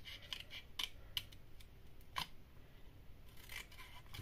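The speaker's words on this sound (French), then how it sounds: "Et ensuite, on va venir couper." Scissors snip through paper in a quiet craft setting, a series of short, sharp cuts spaced irregularly with soft rustling between them and no talking.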